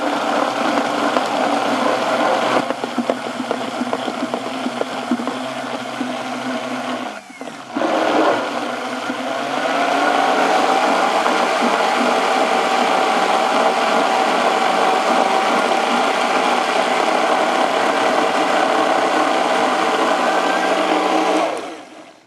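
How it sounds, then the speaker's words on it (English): A countertop blender whirs loudly as it purées blueberry sauce, a steady motor drone that pauses briefly, dips in pitch, then resumes and holds strong for over ten seconds before stopping. "We're gonna stick this in the blender, blend it up, and make my favorite sauce in the world."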